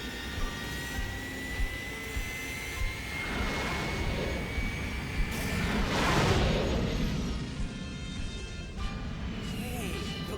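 Animated Veritech fighter jet engines roar as the craft fly, a loud whooshing surge that swells to a peak midway and then eases, over steady mechanical whine.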